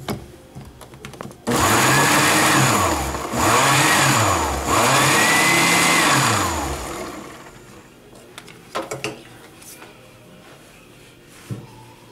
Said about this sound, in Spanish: Y volvemos a licuar.